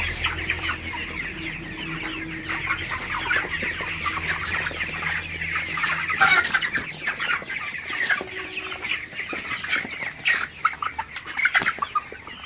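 Broiler chickens in a poultry shed cluck and call steadily throughout, a dense flock chorus close by with occasional louder squawks and wing flutters, no talking.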